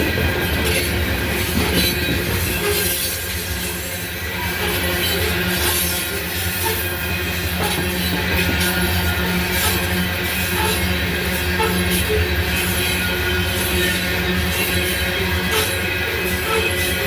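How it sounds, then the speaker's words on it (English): A loaded SCWS coal train rolls steadily downhill toward Greenwood, its wagons rumbling loudly and continuously with clattering wheels and occasional faint flange squeal, close by and without voices. "SCWS coal train headed down the"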